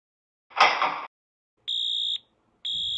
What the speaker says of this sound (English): It's the fire alarm that goes off.